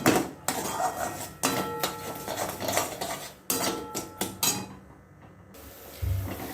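A utensil scrapes and knocks against a pan while stirring sugar into gokul pitha filling, producing repeated clattering metallic strokes at an uneven rhythm, close and fairly loud, with a quieter pause near the end.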